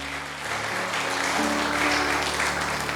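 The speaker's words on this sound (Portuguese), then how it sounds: "Aplauda ao Senhor, irmão" A congregation at a Sunday church service applauds steadily: dense, continuous clapping that fills the room from start to finish, with sustained musical tones running underneath and no voices.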